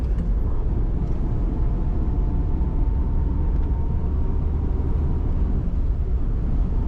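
A 1957 Chevrolet 210 Sedan cruises through a corner in second gear, its engine a steady low rumble with road and wind noise, close and continuous throughout.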